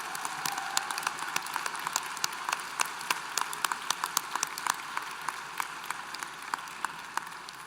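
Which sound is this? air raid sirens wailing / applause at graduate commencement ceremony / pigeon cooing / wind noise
applause at graduate commencement ceremony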